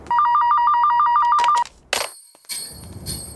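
A phone rings with a rapid warbling electronic tone pulsing evenly for about a second and a half, loud and close, then cuts off, followed by bursts of other bright sounds and noise.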